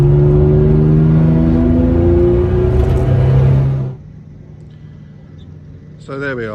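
A 1600 HP 1961 Jaguar E-Type, chassis number 5, holds a loud, deep revving engine roar that cuts off abruptly, leaving a low idle hum with a brief voice at the end.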